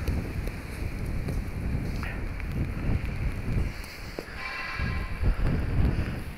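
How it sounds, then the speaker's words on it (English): Strong wind buffets the microphone outdoors in a steady low roar with gusting surges, occasional faint rattles, and no speech. "the sound of wind is so extreme that it's like making it problematic for me to record"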